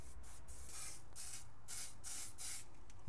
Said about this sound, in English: So I just spray a little bit on it